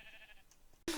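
A single short sheep bleat in Minecraft bursts in loudly at the very end, after faint background sound.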